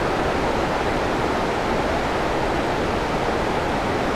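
Water pours down steadily at a riverside bathing spot, a dense, continuous rushing roar that stays loud and even throughout, with no voices.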